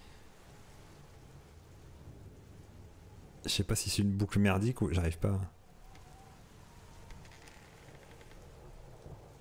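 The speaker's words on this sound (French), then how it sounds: "écoutez le bruit de la pluie" Rain falls in the horror video game Y Village the visitors, a steady soft hiss that continues throughout, briefly overlaid by someone speaking close to the microphone.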